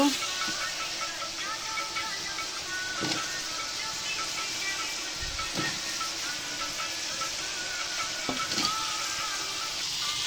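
Vegetables, including ash gourd, frying in a pan for a hilsa fish curry, giving a steady broadband sizzle throughout with a few soft stirring knocks, close and moderately loud.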